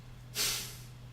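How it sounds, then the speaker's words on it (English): One sharp, forceful exhale through the nose during Kapalabhati breath-of-fire breathing with the mouth closed, a breathy hiss that bursts out and fades quickly. "we'll take Kapalabhati breathing, that breath of fire"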